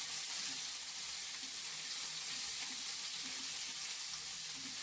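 Okra and curry leaves frying in a pan. A soft, even sizzle with a hissing, crackling texture holds steady throughout at low volume, with no voices.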